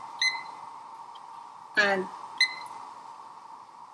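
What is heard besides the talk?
kitchen timer beeping while being set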